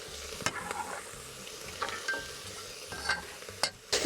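Fresh summer vegetables and beans sizzle and fry in a minestrone pot, with steady close frying and several sharp stirring scrapes and clinks of the utensil against the pan.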